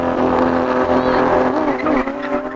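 Two Lamborghini V12 cars, an Aventador Ultimae and an SVJ, race with loud, high engine howls and tonal tire squeal, the pitch climbing and shifting over a short burst, with a voice speaking partly underneath.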